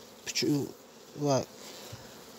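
Honey bees buzz close by in two brief passes at a hive, a droning hum rising and fading over quiet background noise.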